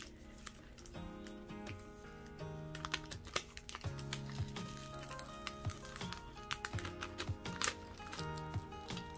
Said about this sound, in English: you can hear it's kind of ripping the paper